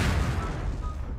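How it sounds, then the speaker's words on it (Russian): A deep, booming explosion near a door in Garry's Mod, one heavy blast whose low rumble decays quickly within about a second. "Как это такой взрыв у меня возле двери был?"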